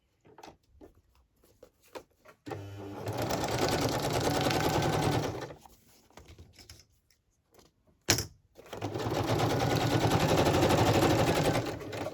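Sewing machine stitching a paper journal trifold: two steady runs of rapid mechanical whirring and needle clatter, separated by quiet handling noises and a sharp clunk.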